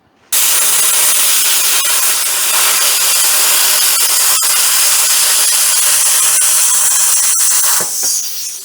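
A steady, loud, hissing cut runs for about eight seconds as a metal patch piece is trimmed to fit on a Chevelle, with a few sharp ticks during the cut before it trails off.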